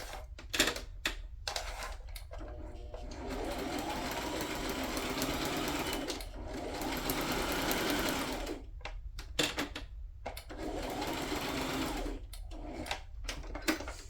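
Sewing machine stitching in short bursts on a waterfall pull-style project: several quick runs of rapid mechanical whirring and clatter, then a long steady run and more brief bursts, close and fairly loud, with no talk.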